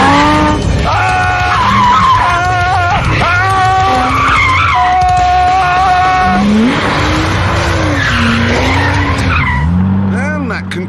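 A GT2 car skids on a road test, its tires squealing in long wavering bursts over a revving engine, loud and close, with a voice heard intermittently.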